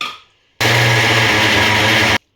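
Mixer grinder blending soaked lentil batter with chillies, asafoetida and a little water for masala vada, a loud, steady motor whir starting abruptly, running about a second and a half, then cutting off.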